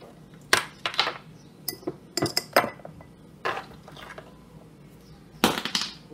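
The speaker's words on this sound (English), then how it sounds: "Now I'm gonna add my ice." Ice cubes clinking and clattering into a glass of milk, a handful of sharp separate knocks and rattles with short pauses between them, moderately close with no talking.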